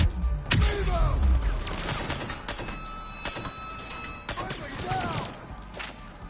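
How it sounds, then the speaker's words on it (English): Repeated grenade explosions and gunfire in the Mass Effect 3 video game, bursts of blasts and crashes with metallic clanks and ringing tones, loud and dense, with a voice briefly heard among the combat. "Damn, that's a lot of grenades"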